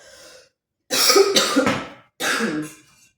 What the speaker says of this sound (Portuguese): vocês não ligam pra essa tosse